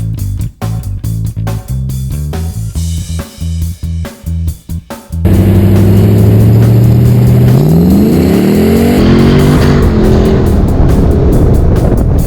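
A 1996 Chevrolet C4 Corvette Collector Edition's engine, first in a run of short sharp revs, then settling into a loud, steady drone whose pitch climbs as the car pulls away, with no voices.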